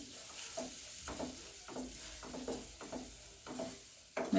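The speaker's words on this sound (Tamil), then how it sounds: "இந்த எண்ணெயில் நம்ம அந்த கொத்தமல்லி தலையை நம்ம நல்லா சேர்த்துருவோம்" Coriander stems fry in hot oil with spices while a spoon scrapes and stirs them in rhythmic strokes, soft sizzling underneath, quiet and close, with a louder clatter at the very end; no talk.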